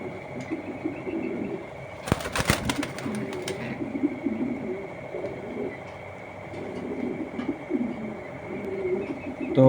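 A small Hungarian Budapest pigeon in a cage gives repeated low, soft coos. A brief loud rattling clatter comes early on, over a faint steady background hum.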